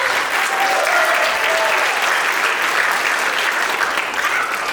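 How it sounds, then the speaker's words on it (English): At a school district stage production, an audience gives a sustained round of applause for the director and crew, thick and even from start to finish with faint whistles and cheers. "Round of applause"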